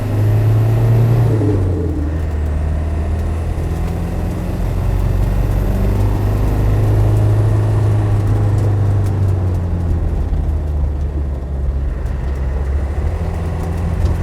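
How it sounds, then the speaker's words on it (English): A classic Land Rover Defender 90 soft top with a turbo engine accelerating on the road, a steady low engine rumble with a turbo whir rising above it, heard from inside the vehicle and continuous throughout. "let's give it a little gas. You hear the turbo."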